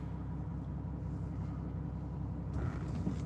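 A neighboring truck idles nearby on a mild day, a steady low diesel rumble droning continuously and evenly throughout, with faint wind noise over it.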